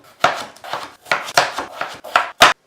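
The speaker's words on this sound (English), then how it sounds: "We're going to cut these into 1/8." A knife chops washed, skin-on potatoes into eighths on a board, about eight crisp, evenly spaced cuts close up in quick rhythm, no talking.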